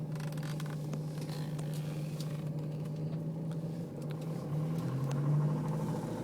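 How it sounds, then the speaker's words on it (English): A 2006 Jeep Liberty CRD diesel 4x4 idling, a low, steady engine drone at moderate distance with slight pitch shifts near the end and a few faint clicks over it. "Oh, I love diesel sound."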